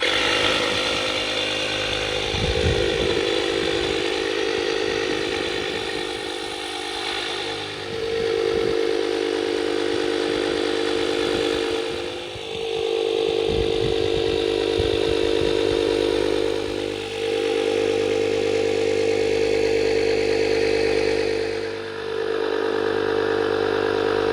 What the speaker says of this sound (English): Let's see if we toggle this on.